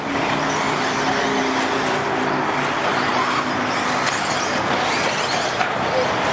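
1/8 scale electric RC buggies racing around a track at Pegasus Raceway, producing a loud continuous high-pitched whine of motors and tires as cars battle down the straightaway, with faint commentary beneath.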